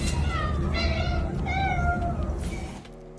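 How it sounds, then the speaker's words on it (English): A cat meows several times in a row, drawn-out and fairly close, with a rising and falling pitch before the sound trails off at the end. "It's cats."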